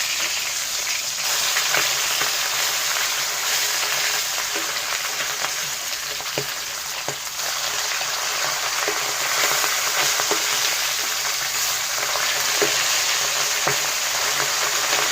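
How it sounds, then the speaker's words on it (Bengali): Fish pieces frying a few at a time in a pan, giving a dense, even sizzle that stays loud and close throughout, with faint stirring clicks and no voices. "এই মাছটা কিন্তু খুব কঠিন মাছ, এটা পুরো অল্প অল্প করে আলাদা আলাদা করে ভাজতে হবে"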